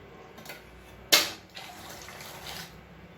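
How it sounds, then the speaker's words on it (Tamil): Tulsi masala tea is poured back and forth between vessels to cool it, giving a sharp splash followed by a soft, running liquid trickle at close range. "இதை நல்லா ஆற்றி விட்டுக்கலாம்."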